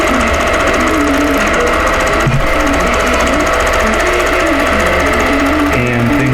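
Quilting machine stitching a pantograph pattern, a loud, continuous rapid mechanical hammering and whirring that runs throughout with little variation.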